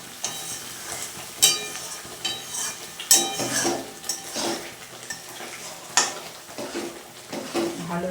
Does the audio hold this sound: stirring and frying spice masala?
yes